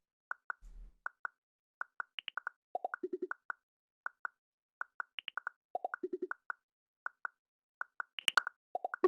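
Footwork-style pop drum sample pitched down a semitone, dry without saturation: quiet, clicky short pops in a busy stuttering pattern with higher blips, faint and close.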